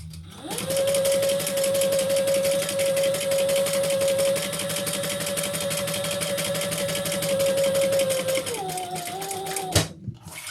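A sewing machine runs steadily, stitching a seam in nylon fabric for a leather and vinyl crossbody bag, its motor whine holding an even pitch for about eight seconds before slowing and cutting off with a sharp click.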